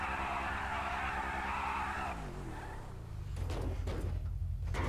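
A sports car in a GTA racing game roars at steady high revs, then drops off and is followed by bursts of tire skidding and squealing, loud and with no voices over it.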